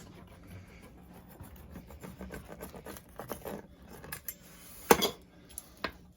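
Knife or pizza cutter working through a homemade two-ingredient pizza crust, quiet rasping and scraping strokes that grow firmer toward the end, with a few sharper taps against the board.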